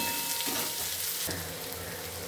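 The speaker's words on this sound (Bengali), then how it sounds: "পেঁয়াজ দিয়ে দিলাম, একটু অল্প, বেশি নাড়াচাড়া করবো না, অল্প একটু ভাজা ভাজা হবে" Onions sizzle and crackle in a hot pan, a bright steady hiss that briefly shifts as the contents are moved, with a soft clank.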